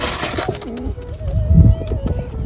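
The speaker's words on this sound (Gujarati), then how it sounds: "કબૂતર છે ઉપર બેઠો છે" A pigeon coos close by, soft low warbling calls repeating over outdoor background noise and a few faint rustles.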